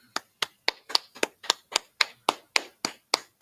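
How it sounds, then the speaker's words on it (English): A steady run of about thirteen sharp hand claps, evenly spaced and crisp, with no talking. "Let's clap it up."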